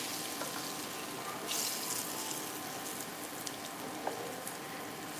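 Sweet plantain frying in a Caraway pan, a steady continuous sizzle with a faint oily hiss, held at an even level throughout with small pops here and there.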